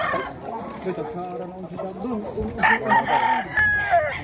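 A rooster crows loudly nearby at a poultry expo, its call rising over people talking and general background chatter.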